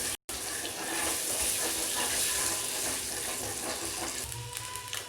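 Eggs frying in hot oil in a pan for spicy Andhra egg gravy, a dense, loud, steady sizzle heard close up after a brief dropout at the start, with no speech.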